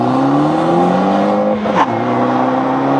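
A 2013 starter sedan accelerates hard from a standstill toward 60 mph, the engine note climbing steadily in pitch, dropping briefly at a gear change, then rising again, loud and close.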